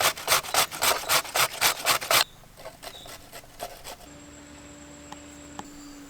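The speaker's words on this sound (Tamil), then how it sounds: "காய் சீவர்களை போட்டு நல்லா சீவி எடுத்துக்கோங்க எல்லாத்தையும்." Bottle gourd skin scraped with a vegetable peeler, a run of rhythmic rasping strokes up close, then fainter scattered scrapes over a quiet background.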